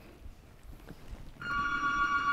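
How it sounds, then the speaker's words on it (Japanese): A telephone rings with a call from the hospital, a bright electronic ring starting partway through over faint background noise, loud and steady once it begins. "すると病院からまた電話が。"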